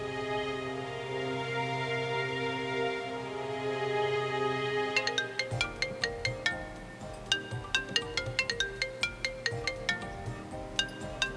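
A phone rings after a call is placed: a steady sustained tone first, then a series of rhythmic repeating ringtone notes, moderately quiet with no talk.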